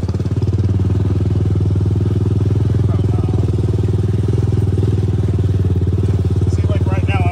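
A Polaris RZR 170 fitted with a Honda 400EX engine runs loud and close, a steady throbbing engine drone throughout with people talking over it.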